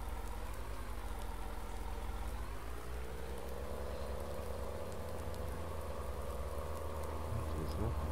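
Steady rain in the Farming Simulator 19 game world, a dense continuous hiss that runs throughout, with a low machine engine idling underneath.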